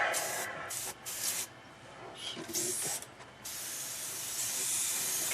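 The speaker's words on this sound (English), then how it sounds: "Let's spray. I'm going to do the LP9 on the wing here." Airbrush spraying paint onto a model wing in bursts of steady hiss, starting and stopping a few times before a longer continuous spray, close to the listener.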